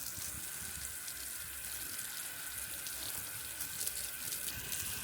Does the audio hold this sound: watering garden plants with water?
yes